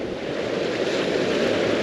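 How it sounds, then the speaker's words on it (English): Ocean waves wash steadily over a rock close by, a continuous loud rushing surf with wind noise and no voices. "There has been a few waves coming over this rock right in front of me here"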